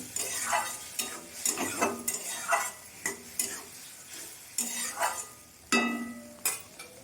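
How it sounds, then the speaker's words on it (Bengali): Spices and chili powder frying in a pan as they are stirred, with intermittent scraping and clinking spatula strokes over a soft sizzle, close and fairly quiet, the strokes irregularly spaced. "এখন মশলাটা আমি ভালো করে কষিয়ে নেব"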